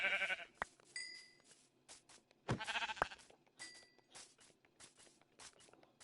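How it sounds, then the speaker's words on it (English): Sheep in the Minecraft Bedrock game give a few short, sharp bleats at moderate level, spaced apart among soft footstep-like clicks and quiet background. "There one more sheep over here."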